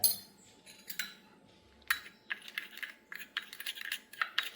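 A spoon stirs a face pack paste with milk in a small bowl, making quick close clinks and taps in uneven bursts against a quiet background.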